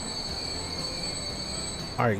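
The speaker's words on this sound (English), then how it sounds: "we just squeak on with that train" Railway squeal of a train in the Transport Fever game, rising as a sharp wavering screech near the end over a steady hum and faint background tones.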